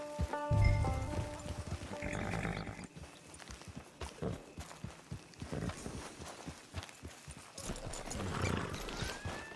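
Horse hooves from the video game Red Dead Redemption II clip-clop in an irregular, close rhythm, with a low thud at the start and a brief whinny-like sound.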